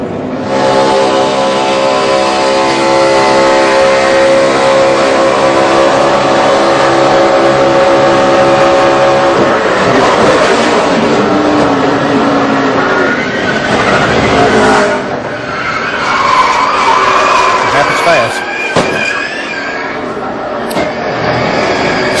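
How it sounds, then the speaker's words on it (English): NASCAR stock cars at Talladega during the 2011 Good Sam Club 500, a loud, continuous roar of engines that holds steady and then swells and shifts as the pack passes. "watch Matt Kenseth in that 17 slide through"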